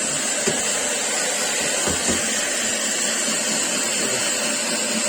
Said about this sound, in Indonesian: Jadi sambil kita vakum, kita panaskan dengan hair dryer ya, biar airnya di sini cepat menguapnya.